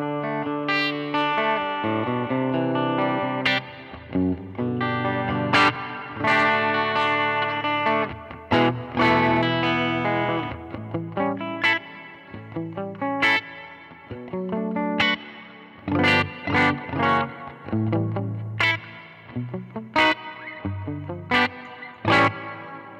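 Arpeggiated electric guitar through an Earthquaker Dispatch Master delay and reverb pedal, picked notes ringing into each other with a steady wash of repeats, modulated shimmer and a reverberant tail. It plays loud and continuous, with no voices.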